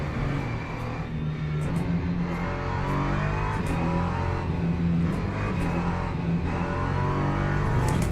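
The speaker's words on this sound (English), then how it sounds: "Yeah, now the car brakes." A race car in Le Mans Ultimate roars with a continuous engine note that rises and falls with faint clicks of gear or brake changes, loud and close throughout with no talk.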